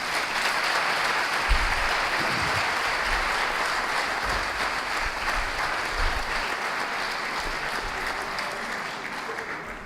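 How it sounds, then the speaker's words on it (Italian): An audience at a comic show in Ponzano Veneto breaks into sustained applause, a loud, dense clapping that holds for about ten seconds and tapers slightly, with some low thumps and murmurs underneath. "Applauso."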